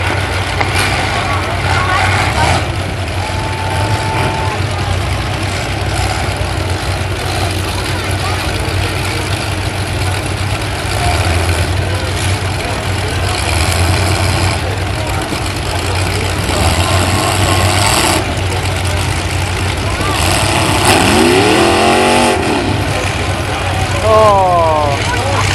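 A mud-covered truck at a Pumpkin Smash event runs its engine with a steady low rumble throughout, interrupted by a couple of rising revs near the end, with crowd noise and talk around it.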